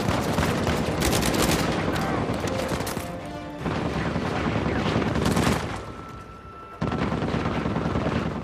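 Rapid bursts of gunfire in Uncharted 4 during a firefight in the New Devon chapter, dense loud volleys and machine-gun rattle with brief lulls between bursts.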